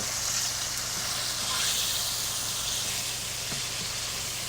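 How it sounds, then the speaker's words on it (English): Steady, loud sizzling and crackling of fish frying in hot oil for Jamaican escovitch fish, a dense hiss that continues without pause. "See how fast that fish is frying?"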